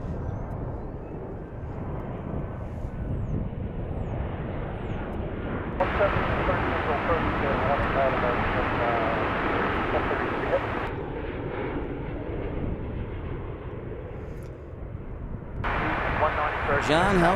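A continuous loud jet roar from a Qantas airliner at DFW International Airport fills the scene, swelling and easing as the engines rumble, with broadband noise throughout.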